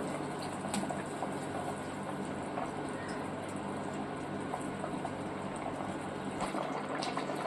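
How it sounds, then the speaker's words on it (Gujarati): Water boils steadily in a pot as radish dhokli pieces are dropped in, with soft splashes and a constant bubbling hiss through the whole stretch. "હવે આપણે જો ઉકળતા પાણીમાં જ આપણે ઢોકળી નાખવાની છે"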